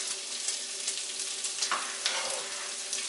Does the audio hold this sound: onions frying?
yes